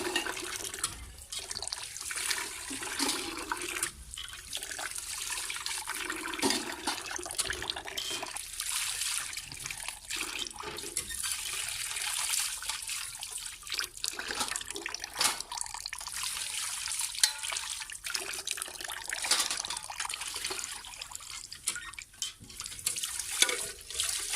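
Washed dishes are rinsed under clean tap water, a continuous splashing and running flow with intermittent clatter and spatter, steady throughout at low volume with no talking.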